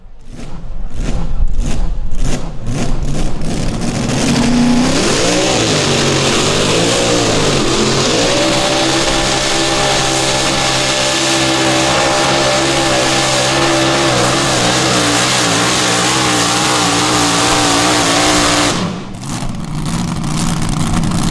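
A pulling tractor at a summer nationals tractor pull roars up to a loud sustained rev after a few sharp blips, pitch rising then holding steady under load for over ten seconds before cutting off near the end.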